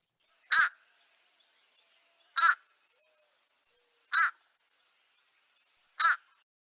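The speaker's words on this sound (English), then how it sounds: "So this is fish crow. So it's very nasally." Four nasal, clipped fish crow calls, each a short harsh caw spaced about two seconds apart, close and clear over a faint steady hiss.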